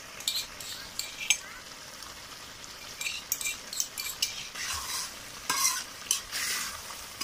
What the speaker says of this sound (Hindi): अभी मिर्चा और लहसुन का पेस्ट डाल रहे हैं।